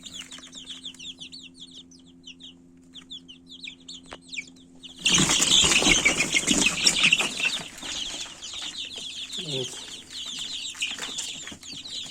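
Three-week-old Rhode Island Red chicks cheep and cluck steadily in a close brood, with a sudden louder burst of flapping and busy calling midway that stays dense to the end.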